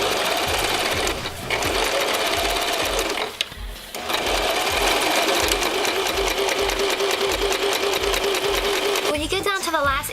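A sewing machine stitches fabric for a floral infinity scarf in one long continuous run with a steady rapid motor whir. There is a brief pause partway through, and a voice speaks over the stitching.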